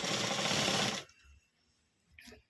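A tailoring sewing machine runs a steady, loud stitching burst for about a second while hemming a strip, then stops, followed by faint mechanical clicks and a short rustle.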